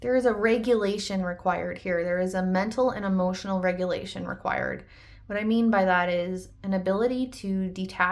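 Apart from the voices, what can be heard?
No everyday noise stands out behind the speech.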